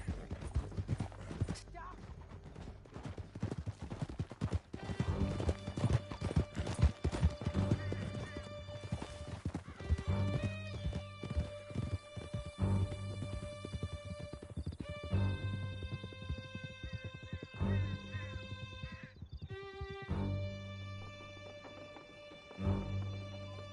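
Horses gallop in the Red Dead Redemption 2 video game, with a fast, dense clip-clop of hooves and occasional whinnies. Game music and voices play along with it.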